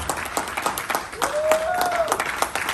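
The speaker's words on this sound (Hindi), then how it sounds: "जोरदार तालियों के साथ स्वागत करें" Clapping from a seminar audience welcoming the achievers, moderate and somewhat uneven, with a brief whistle-like tone in the middle.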